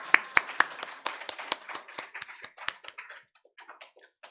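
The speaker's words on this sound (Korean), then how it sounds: "하나님께도 우리 뜨거운 박수를 한번 쳐줬으면 좋겠습니다" A congregation at a weekday worship service in a Seoul church claps in a burst of sharp, fairly close handclaps that quickly thin into scattered, softer claps and die away, with no talk over them.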